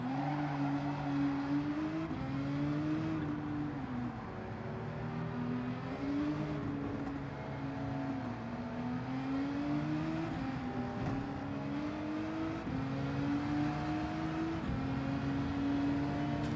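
A McLaren race car engine in Gran Turismo 7 at a Bathurst 12 Hour race holds a steady droning note that climbs and drops again and again through the gears, with no talk over it.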